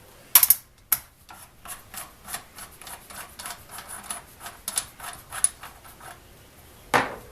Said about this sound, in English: the first thing we'll do is take our front nut off